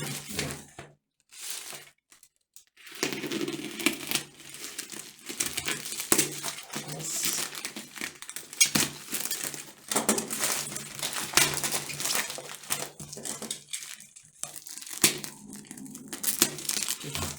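Plastic packaging film around replacement headlight lenses for a Renault Megane 2 is cut and crinkled with a knife, producing close, loud bursts of crackling and crunching with brief pauses in between.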